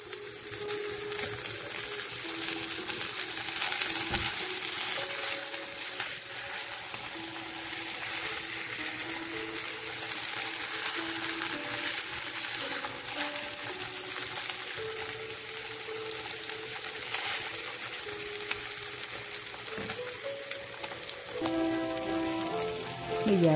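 Salmon fillet sizzles in hot oil in a pan, a steady hissing crackle that runs throughout at close range, with faint musical notes and background sounds toward the end.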